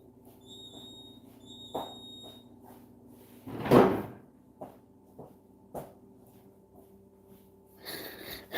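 A refrigerator door is pushed shut with a single soft thud midway, preceded by faint repeating electronic beeps, followed by a few light knocks and clicks in a quiet room.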